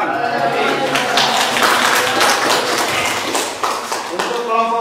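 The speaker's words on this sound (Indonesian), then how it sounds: "Tepuk tangan." Audience applause fills a classroom session right after a student group presentation, a dense, steady wash of many hands clapping at close range for several seconds, with a few scattered voices under it.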